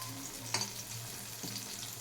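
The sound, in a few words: prawn fritters frying in oil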